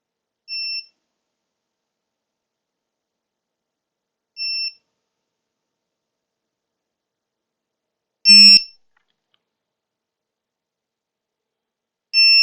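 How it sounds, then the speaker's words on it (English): Vifly Finder lost-model buzzer sounding its loud full alarm tone: short piercing beeps repeat every few seconds in silence, with the last two pulses louder and fuller. "So that's its full alarm tone now, 105 decibels."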